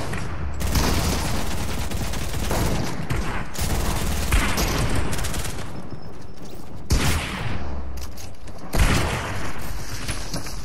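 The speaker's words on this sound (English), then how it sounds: "Gunshots." Rapid gunfire from Fortnite erupts in repeated bursts and volleys, loud and dense, with short pauses between clusters of shots amid game noise.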